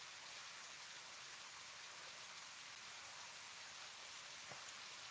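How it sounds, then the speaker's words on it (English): Steady rain falls outside on a wet Saturday, a soft, even hiss of drops that continues unbroken and at moderate distance, with no voices. "I don't know if you can you hear the rain?"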